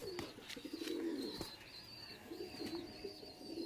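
Punjabi pigeons in a loft coo in soft, repeated low calls, with a few brief flaps and chirps mixed in nearby.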